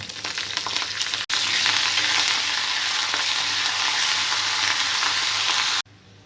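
Mustard and other tempering seeds, garlic, dried red chillies and curry leaves hit hot oil in a pan with a sudden loud hiss. The steady close-up sizzle holds, then cuts off sharply near the end.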